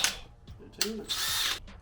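A power drill spins up drilling metal in a few brief whirring bursts, the last one a sustained high grinding whine, with faint clicks between.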